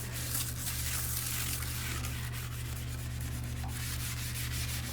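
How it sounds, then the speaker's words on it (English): A toilet brush scrubs around a toilet bowl in a steady, continuous rubbing sound, close but fairly quiet, with a constant low hum underneath. "take the brush and real good kind of go around the toilet, make sure we're all clean"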